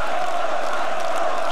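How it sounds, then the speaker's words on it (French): Large esports arena crowd at the League of Legends World Championship 2015, a dense steady roar of massed voices filling the hall with no distinct claps standing out. "Allez, on applaudit."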